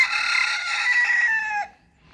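Bantam chickens in a park give a loud, close rooster crow lasting well over a second, with clucking mixed in, before it cuts off into near silence.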